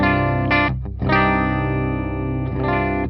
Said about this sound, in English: Here's a clean sound with my Cort M600.